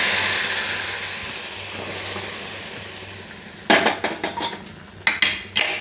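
Cooked dal of ridge gourd and moong lentils being shifted into a tempering pan of fried spices, asafoetida and dried red chillies: a steady background hiss, then a cluster of sharp metal utensil clinks and scrapes, close.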